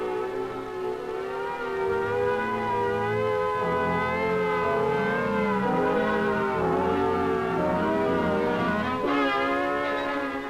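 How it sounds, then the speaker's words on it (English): A civil defense air-raid siren blares steadily for the whole stretch, a loud sustained wail with a wavering warble and a slow pitch rise and fall, heard alone without any voices. "the alert will be a warbling siren blast lasting 3 minutes."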